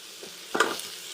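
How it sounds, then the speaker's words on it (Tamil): Tomatoes being sautéed in a pan with onion and ginger garlic paste for chicken gravy: a brief scrape of stirring against a faint sizzle, the loudest burst about halfway through and another short scrape at the end. "இப்போ இதில் நம்ம தக்காளி ஆட் பண்ணி வதக்கலாம்."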